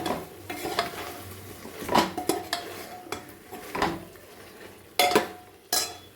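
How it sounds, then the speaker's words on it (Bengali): Chicken and tomato sauté for a chicken stew, with a clatter of a utensil scraping and knocking the pot over a low sizzle, and several sharp metallic clanks near the end. "একটু সাঁতলে নিই ভালো করে।"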